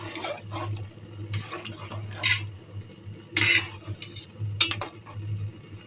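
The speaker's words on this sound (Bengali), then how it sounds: "এখন ঘুটা মারবো, ঘুটা।" Dal for haleem is stirred in a large pot: uneven metallic scrapes and clanks of a utensil against the pot, with a few sharper knocks, over a low steady hum in a quiet kitchen.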